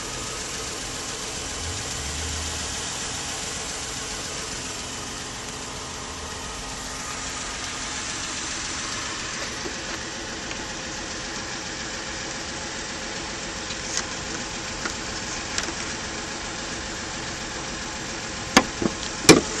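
A 2013 Ford Explorer's 3.5 liter V6 idles steadily, a low, even engine hum that runs throughout at moderate level, with a few faint clicks near the end.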